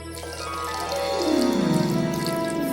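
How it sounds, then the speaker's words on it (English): Water poured over gold in a children's retelling of the King Midas tale, a bright splashing pour that swells and grows louder over a few seconds, with no talk over it. "poured water over the gold"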